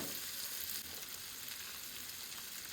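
Corn kernels fry in melted butter in a hot pan, giving a steady, close sizzle that holds at an even level throughout with no voices over it.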